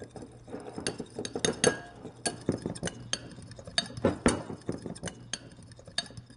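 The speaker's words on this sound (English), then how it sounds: "I'm going to whisk that together." A fork whisks an apple cider vinegar dressing in a dish, quick uneven clinks and scrapes of metal against the bowl, close and fairly quiet with no talking.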